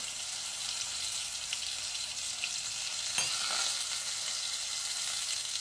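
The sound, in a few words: soaked curry leaves sizzling in hot oil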